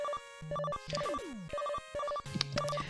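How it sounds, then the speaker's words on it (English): An electronic phone ringing tone in the retro game Mega Man 9: bright, repeated beeping chirps in short stuttering bursts with brief falling sweeps, moderately loud and without any speech. "That phone noise is legitimately pretty annoying."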